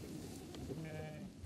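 Sheep and goats on an open, unfenced Mongolian pasture bleat in a short burst, one call rising clearly over a steady murmur of the flock at middle distance.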